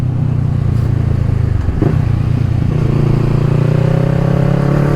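A motorcycle on the road accelerates hard while overtaking a car, its engine note climbing in pitch as it revs up. The engine roar is loud and continuous with steady wind rush, and there is no talk.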